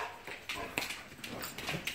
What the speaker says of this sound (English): Sorry, dogs are going crazy.